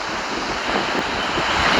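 Strong wind buffeting a handheld microphone outdoors beside a lawn tractor, a continuous broadband rumble and roar with no pauses, loud and close.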